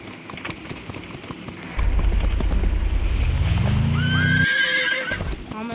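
A horse in the video game Free Fire gallops with rapid clip-clop hooves over game background noise, then gives a loud rising whinny near the end.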